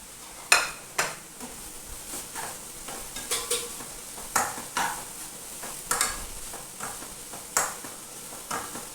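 Ginger, green chili, curry leaves and capsicum sauté in a pan with a soft, steady sizzle, while a utensil scrapes and stirs in regular strokes about once a second, close by and fairly quiet.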